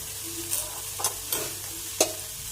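Chicken pieces are mixed with spice paste for home-style fried chicken: four soft, close, wet squelches and scrapes spaced apart over a low steady hum.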